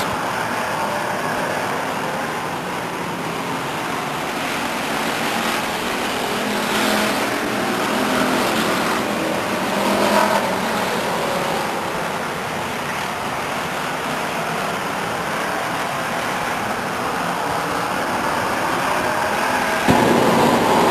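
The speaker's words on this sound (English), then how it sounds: "Now the 43 car of Brian Clark makes a move on 67 Bird for the inside." Race cars at Stockton 99 Speedway in 1999 roar continuously around the oval, engine noise swelling and fading as they pass, a loud, steady wash of sound heard from the stands.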